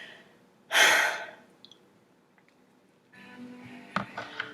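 Breathing exercise with a strong, close exhaling sigh, a quiet pause, then a softer drawn-in breath with small mouth clicks, no talking.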